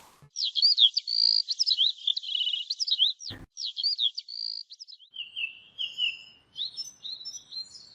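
Myna birds chirp in a cartoon scene, a lively run of bright, rapid whistles and squeaky trills in quick bursts, with one brief thud partway through, fairly clear and close.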